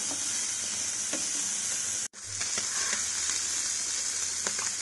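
Mutton liver pieces fry in a pan with a constant bright sizzle close up, with a few light scrapes and stirs and a brief drop out midway.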